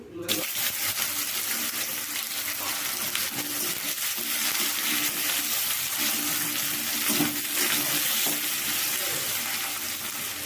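Sliced onions, a red chili and a bay leaf fry in oil in a pan for a Bengali-style mutton curry, giving a loud, steady sizzle with faint clinks throughout.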